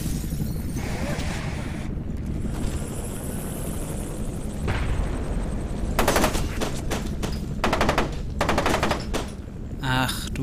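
Bursts of rapid automatic gunfire from the video game F.E.A.R. 2, loud and close, starting midway in dense rattling volleys over a rumbling game backdrop.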